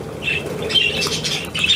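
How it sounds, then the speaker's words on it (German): A seagull gives several harsh squawks close by as it flies off, with light pattering and flapping between the calls. "Da haut die Möwe ab"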